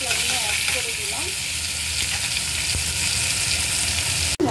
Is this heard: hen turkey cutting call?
no